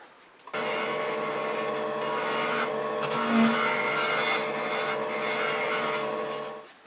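A hand scraper works a cherry burl wood box, and the tool and wood give a sustained, steady scraping drone that holds nearly constant for about six seconds, close and fairly loud.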